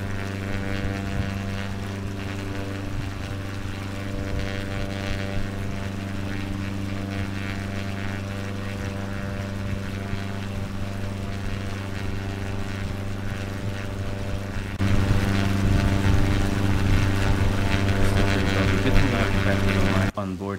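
Steady droning aircraft engine hum from the flight simulator game Infinite Flight, with layered tonal harmonics held constant, then a louder broadband rush joining in near the end.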